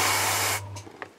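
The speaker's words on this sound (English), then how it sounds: "We get onto the side of the model like this and just gently run the airbrush along" An airbrush sprays paint onto the side of a Leman Russ tank model in a steady close hiss, then stops abruptly partway through, leaving faint small clicks.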